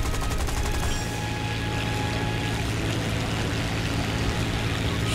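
Rapid gunfire from the War Thunder video game, dense continuous bursts over a low rumbling engine drone, loud and sustained with no pauses throughout.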